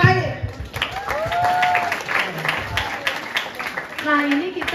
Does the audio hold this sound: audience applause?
yes